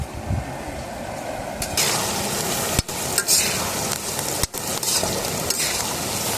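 Curry leaves fry in hot oil in a village kitchen for a mutton kudal curry gravy. A loud, steady crackling sizzle runs throughout, broken by sharp clinks of stirring against the pan.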